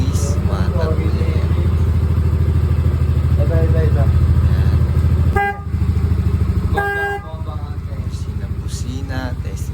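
A rebuilt Yamaha NMax v1 scooter engine idles steadily with a close, even putter, cut by two short horn toots, while someone talks over it.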